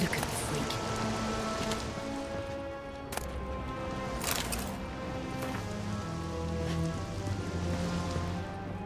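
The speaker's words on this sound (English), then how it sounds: "Witches have conjured rain." Rain conjured by witches in a video game pours steadily with a dense hiss of drops, mixed with sustained tonal game music and a few brief sharp hits.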